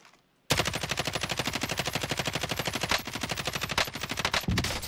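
Sustained rapid automatic gunfire in a first-person shooter video game, loud and continuous bursts with only brief gaps, no one talking.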